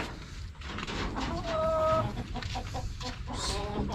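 An egg-laying hen clucks in a backyard, a few short clucks and a brief squawk close by, mixed with people talking.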